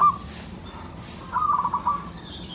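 A perkutut zebra dove coos softly, a short call at the start followed by a longer rolling coo after a pause, heard alone at moderate distance with faint background.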